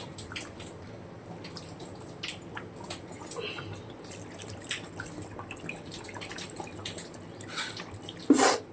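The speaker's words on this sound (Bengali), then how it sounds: "একটু জল দেবো।" Water is poured into a cooking pot of chicken curry with potatoes, a thin trickling splash with scattered drips and clinks, fairly quiet, ending in a brief louder splash.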